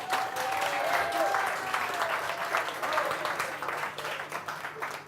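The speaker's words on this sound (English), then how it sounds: "come on, round of applause." An audience gives a round of applause during a casual interview, a sustained, fairly loud wash of many hands clapping that swells and gradually eases off over several seconds.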